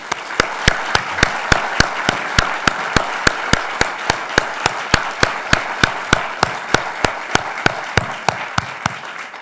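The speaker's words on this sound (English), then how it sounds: "please join me in one more round of applause for all the finalists." An award ceremony audience applauding the finalists, loud dense clapping with some sharp individual claps standing out at a steady pace across the whole stretch.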